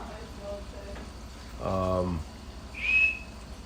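A person whistles one short rising note near the end, after a brief burst of bubbling or boiling water in what sounds like a reef aquarium room; background hum throughout.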